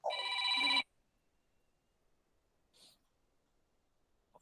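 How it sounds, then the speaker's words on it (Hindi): A telephone rings during an online class, one short loud ring burst at the start followed by near silence with a faint brief noise later. "फोन बज गया लगता है, कोई बात नहीं,"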